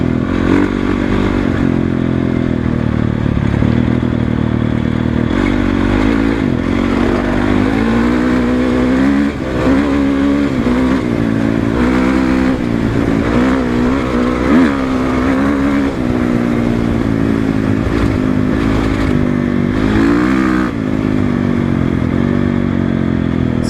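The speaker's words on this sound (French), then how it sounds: "Vous entendez un petit claquement, c'est rien. C'est la chaîne qui est légèrement détendue" A 2012 Honda CRF450 motorcycle engine runs steadily up close, with a light, rapid metallic clattering from a slightly loose chain under the engine drone throughout.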